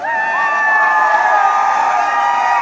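A large crowd at a political rally screams and cheers loudly and continuously, a dense wall of shrill voices sustained without pause.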